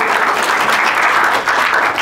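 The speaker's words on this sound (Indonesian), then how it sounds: "tepuk tangan buat istri saya" A seated audience at a business talk breaks into strong, sustained applause for the speaker's wife, a dense, even clatter of many hands with no voices on top.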